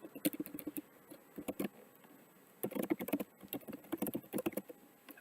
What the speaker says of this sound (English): And then you can just start